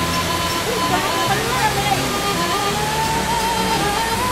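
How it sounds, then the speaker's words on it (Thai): An artificial waterfall behind a wall in a Chinese-style garden gives a steady rushing wash of water, moderately loud and continuous, with a person talking over it. "หลังกำแพงก็จะมีน้ำตกนะฮะ น้ำตกจำลอง"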